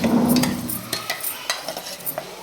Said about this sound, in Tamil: நல்லா வெங்காயம் தக்காளி அப்புறம் இஞ்சி பூண்டு பேஸ்ட்லாம் சேர்த்து நல்லா வதக்கி விட்டாச்சு